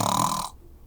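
A storyteller's voice imitates a big burp, one loud close belch lasting about half a second before cutting off.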